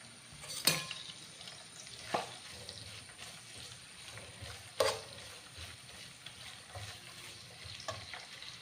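Onions frying in oil in a pan, a soft continuous sizzle with a few sharp spoon clinks against the pan at intervals.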